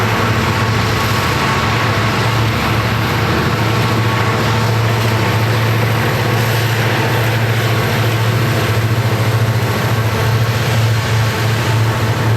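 A trash train passes in the Allegheny Mountains, a loud continuous rumbling drone with a steady low hum and a broad wash of rail noise holding for many seconds.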